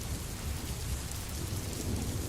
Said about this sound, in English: The rain began just after dusk, sluicing against the asphalt in sheets